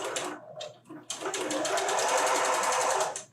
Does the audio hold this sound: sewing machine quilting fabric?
yes